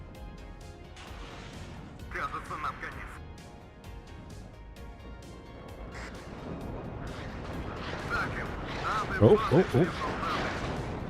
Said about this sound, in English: The artillery spam has started.